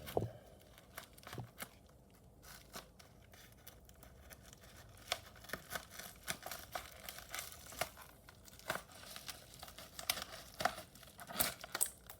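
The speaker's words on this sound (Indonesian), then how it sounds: "Yuk langsung kita gunting." Plastic packaging for a Sivitech YF-025 soldering iron crinkling and snipping as scissors cut it open, with irregular close crackles and rustles throughout, fairly quiet.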